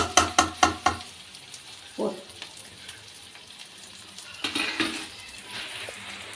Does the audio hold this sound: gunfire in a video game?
no